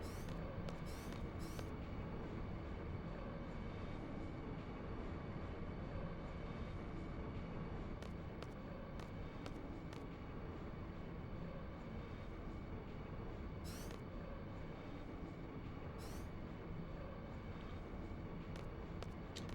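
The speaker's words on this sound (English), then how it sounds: "the train supposedly is in a tunnel going under the ocean" A train rumbles through an undersea tunnel in the Final Fantasy VIII video game, a very faint, steady low drone with occasional soft clicks and no talking.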